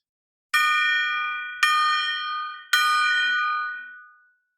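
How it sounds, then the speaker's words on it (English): A gong is struck three times at roughly one-second intervals. Each ringing metallic tone sounds clear and alone, decaying slowly, and the last hit lingers longest before fading to silence. "3 strikes on the gong."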